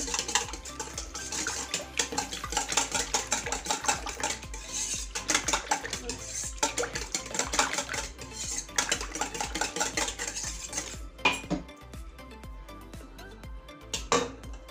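Salt stirred into a liquid mixture in a bowl for homemade hamburger bun dough, a steady close clatter of spoon and utensil scraping against the dish that pauses briefly near the end, with no talking.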